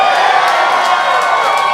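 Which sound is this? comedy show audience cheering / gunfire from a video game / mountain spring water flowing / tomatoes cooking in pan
comedy show audience cheering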